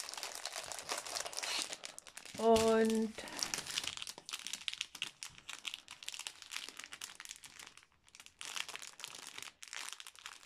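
Gift wrapping paper crinkled and handled close up, a dense crackly rustle that runs for ten seconds with a brief bright tone near the start and someone speaking at times.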